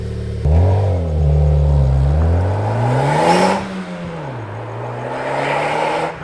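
Honda Civic Type R engine with a Blitz NERSPEC catback exhaust revving up and settling, a loud, steady low drone that climbs and falls in pitch over several seconds, heard alone.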